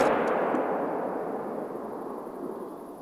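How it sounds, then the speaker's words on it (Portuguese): A hunting rifle fires in the video game theHunter: Call of the Wild, giving a single loud shot whose roar fades into a long rolling echo. "Não sei se o disparo foi tão bom."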